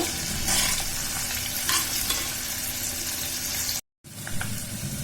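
Paneer cubes and a few cashews frying in butter over low heat, a steady crackling sizzle with occasional stirring scrapes, cut by a brief silent gap before the sizzle resumes.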